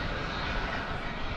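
A cargo plane's engines roar in a steady, fairly faint drone as it flies past at DFW Airport in the evening, with no voices over it.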